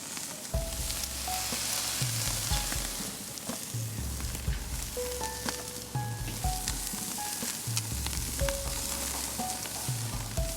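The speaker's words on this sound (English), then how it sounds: "We put the lamb on the grill. The sausages and the pork." Lamb, sausages and pork sizzle on a grill with a steady, close, broadband hiss that runs unbroken throughout, over a low rhythmic background tone.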